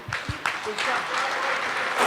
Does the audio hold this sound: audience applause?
yes